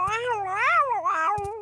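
A cat in the game Bob the Builder Snowed Under gives one long, drawn-out wavering meow, loud and close, with a couple of brief clicks at the end.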